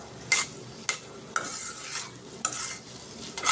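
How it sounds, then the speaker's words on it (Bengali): A utensil stirs dried fish (shutki) with taro leaves in a frying pan, sending several sharp scraping strokes across a soft, continuous sizzle at an uneven rhythm. "কচু পাতা দিয়ে শুটকি সম্বার দিচ্ছি"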